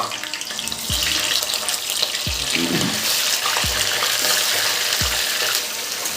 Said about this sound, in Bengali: এই যে নুন মাখানো যে মাংসগুলো রেখেছিলাম ওইগুলো এবার দিয়ে দেবো